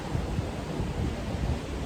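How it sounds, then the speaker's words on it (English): Strong wind buffets the microphone outdoors in West Palm Beach, a continuous low rumbling roar with gusty swells and no other sounds. "everything is shaking because it's so windy"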